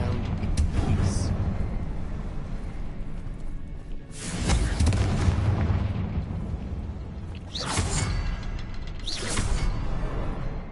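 Confringo blasting spell cast in a video game, with several loud booming explosions and whooshes spaced a few seconds apart over a dense, rumbling game soundscape.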